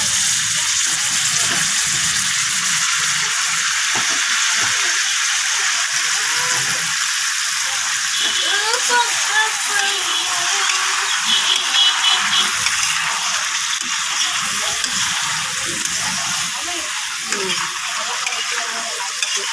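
Chopped vegetables for a prawn curry with bottle gourd, eggplant, potato and cauliflower are tossed into hot oil in a frying pan, setting off a loud, steady sizzle and hiss with some stirring throughout.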